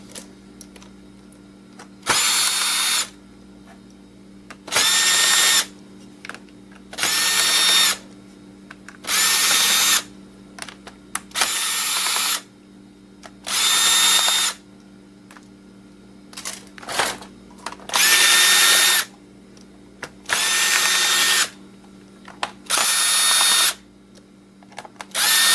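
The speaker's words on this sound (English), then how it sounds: "Let's get all these screws out. Hopefully you get all the hidden ones out too." Power screwdriver backing screws out of old scrap laptops: about a dozen short, high whirring bursts in an irregular start-stop rhythm, close and loud, with quiet handling noise between them.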